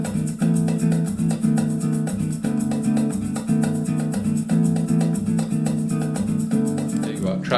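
A samba guitar track plays with busy rhythmic strummed chords in a steady syncopated pulse, full and loud throughout with no voices over it.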